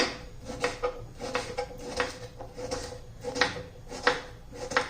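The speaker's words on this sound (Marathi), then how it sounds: "असा भोपळा मी आता चिरून घेते सर्व भोपळा चिरून घेते" A knife chops peeled bottle gourd into small pieces on a board, giving a run of close, crisp, regularly repeated cuts and taps, about ten strokes with short pauses between bursts.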